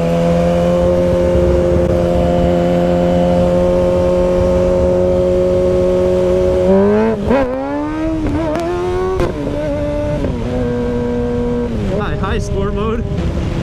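A sports car with an aftermarket exhaust, in sport mode, drones at steady high revs, then the throttle chops and the pitch drops and surges in rough bursts, loud and close.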